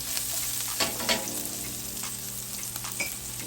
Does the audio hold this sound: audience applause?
no